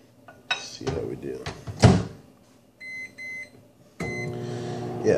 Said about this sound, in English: So now all I'm going to do is I'm going to microwave this